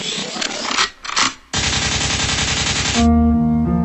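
Loud rapid bursts of gunfire sound effects, a short stuttering volley, a gap, another burst, then a sustained machine-gun-like rattle that cuts into a tonal musical sting, close and punchy with no voices.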